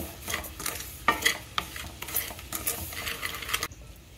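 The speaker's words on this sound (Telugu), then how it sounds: "స్టవ్ వెలిగించుకొని బాండి పెట్టుకొని గోధుమ రవ్వను ఇలా రోస్ట్ చేసుకుందామండి" Wheat rava (semolina) dry-roasting in a kadai on the stove while being stirred, giving repeated close scraping and rustling strokes with light metallic clinks of the spoon against the pan, steady and alone.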